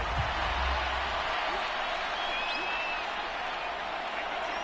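A stadium crowd at an American football game applauds the defense after a stop on third down, giving a steady, dense wash of clapping and cheering that holds at a constant level throughout.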